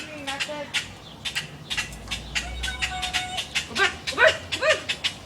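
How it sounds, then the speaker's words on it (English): A dog barks repeatedly in short, sharp bursts outdoors, with scattered bird calls and faint voices in the background. "Watch the dog catch it and run."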